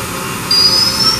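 A Mori Seiki NT6600 machine spindle spins at 6500 RPM, giving a steady high whine that holds at one pitch over a constant mechanical hum.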